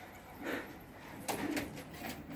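Pigeons coo faintly just after being released, a few soft, muffled calls against a low outdoor hiss and rustle, with no talking.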